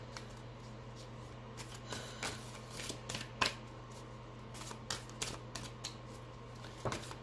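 Tarot cards being shuffled by hand at a reading, a steady run of soft riffling and snapping bursts close by, with a low constant hum underneath and no talk.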